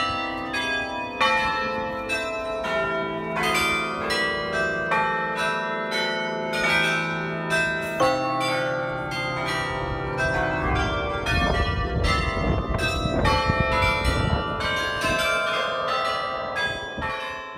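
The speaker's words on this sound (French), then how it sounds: "on était juste en dessous des cloches au moment où le carillon a sonné" The carillon in Bruges rings out from directly overhead, a loud, dense cascade of overlapping church bell tones that plays on continuously with lingering resonance and no talking.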